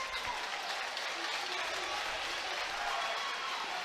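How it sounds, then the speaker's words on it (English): Crowd at a high school wrestling match applauding, a dense, even patter of many hands clapping that holds steady for a few seconds in a large gym, faint and somewhat distant. "The crowd appreciates and applauds."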